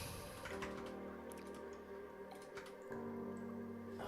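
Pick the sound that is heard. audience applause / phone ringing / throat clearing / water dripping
water dripping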